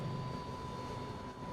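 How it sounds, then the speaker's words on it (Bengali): A GPX Demon 165RR motorcycle sounds its single horn in one steady, unbroken tone over broadband background noise, with no voices. "তো হর্নের সাউন্ডটা কেমন আপনাদেরকে একটু শোনাই।"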